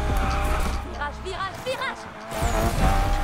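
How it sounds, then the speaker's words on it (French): A car drifting through corners in Need For Speed Unbound, tires squealing in rising and falling sweeps over a loud engine, with people talking over the action. "Essayez de drifter."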